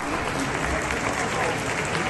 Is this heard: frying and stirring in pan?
no